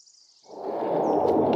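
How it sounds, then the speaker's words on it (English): Plane flying high over Yosemite, its roar echoing off the granite cliff walls, swelling in from quiet into a broad, distant rumble that holds steady. "That is the sound of a plane flying over Yosemite, echoing off all the walls."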